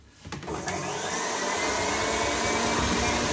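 An electric stand mixer whipping egg whites for a meringue roulade starts with a few clicks, then spins up into a loud, steady, close whirring roar that holds to the end.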